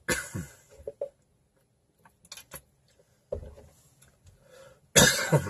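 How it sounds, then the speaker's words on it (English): A burst of harsh coughing up close, a few rough coughs, then a pause and another loud cough near the end. "I got the cough tonight"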